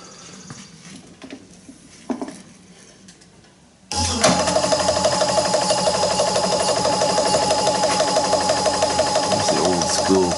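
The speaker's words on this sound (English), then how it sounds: "piston pump running, and we're taking that rainwater and boosting it up" An old rebuildable piston pump driven by a 24 volt solar motor boosts rainwater, kicking on abruptly after quiet handling noises and then running with a loud, steady mechanical chatter close by.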